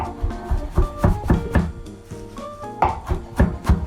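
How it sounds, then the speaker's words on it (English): Italian flat leaf parsley chopped by hand with a knife on a board, quick uneven bursts of close, crisp thuds with brief pauses between runs. "we're gonna chop a bunch of parsley, this Italian flat leaf parsley"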